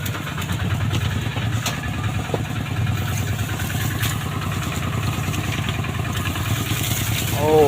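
A motorcycle engine drones steadily and near at mid pitch, with clattering and rattling from a rough rural track, continuous for the whole stretch and swelling slightly at the very end.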